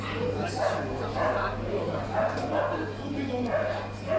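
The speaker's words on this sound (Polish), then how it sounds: "Urocze pieski." Small dogs, Akitas, yip and bark repeatedly at a moderate distance at a flower market, with a constant low hum and people talking throughout.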